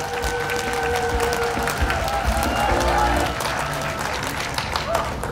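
Audience applause at the opening ceremony of the 3rd Gimhae Biennale international art festival, held at the Gimhae arts center; a crowd claps steadily and fairly loudly, with sustained musical tones and voices mixed underneath.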